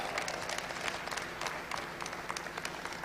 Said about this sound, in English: Can we give them a huge clap?